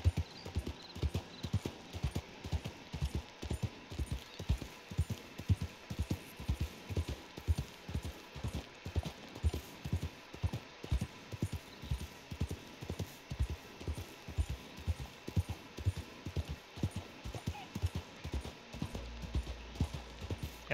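Steady rhythmic hoofbeats of a horse clip-clopping at a walk in the video game Red Dead Redemption 2 Online, close and even, continuing throughout without pause.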